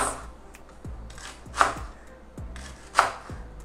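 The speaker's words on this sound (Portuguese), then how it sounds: "Então agora eu venho cortando o alho poró em rodelas" A knife slices a leek into rounds on a cutting board, with a series of crisp, evenly spaced chops close by and two sharper, louder strikes standing out.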